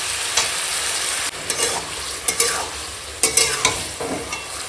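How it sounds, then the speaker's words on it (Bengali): Green jackfruit curry simmering in a pan with a little water added and being stirred, giving a steady sizzle under several scraping, clattering stirring strokes. "আর দেখো এখন এঁচোড়টা রান্না হচ্ছে"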